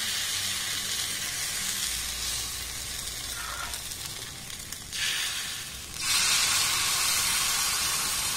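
Small spoonfuls of pitha batter hit a hot tawa, the steady sizzle swelling in two sudden louder surges as fresh batter lands, close and bright hissing without any speech.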